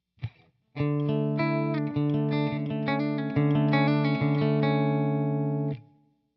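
Clean electric guitar through an amp setting modeled on a Fender Twin Reverb, with a bit of bite; a short pluck, then a sustained run of chords and ringing notes that fades out, played alone.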